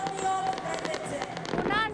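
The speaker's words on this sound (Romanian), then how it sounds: "Spectacol a fost și pe cerul capitalei. Focul de artificii a durat aproape 15 minute." New Year fireworks burst over the capital city as a steady crackling, popping barrage, distant and continuous, with a voice speaking over the display throughout.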